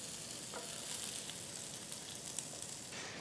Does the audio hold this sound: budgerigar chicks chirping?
no